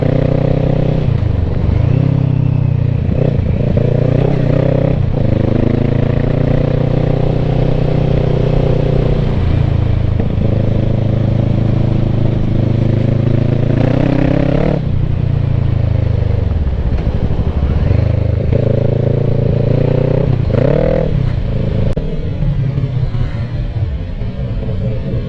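A motorcycle on fresh tires runs up a gravel road, its engine droning loud and steady for the whole stretch, with pitch rising and dipping as the rider works the throttle and gears.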